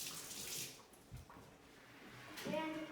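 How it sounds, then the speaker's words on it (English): A teaspoon rinsed under a running tap, a brief close splash of flowing water with faint spoon clatter, ending in a louder gush of water toward the end. "we're gonna need to rinse it out"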